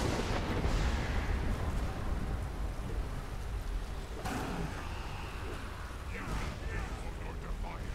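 The Fire Breath dragon shout in the video game Skyrim gives a low, rumbling roar of flame that sweeps through the scene, with softer crackling bursts following.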